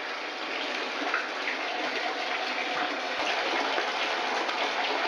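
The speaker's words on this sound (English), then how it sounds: "The tub is almost filled with the water." Water pouring steadily into a newly installed bathtub that is nearly full, a constant broadband rushing gush from the faucet, close and fairly loud throughout with no talk.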